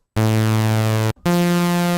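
A buzzy, bright synth tone built from two slightly detuned saw waves holds one note, cuts out briefly, then returns on a higher note.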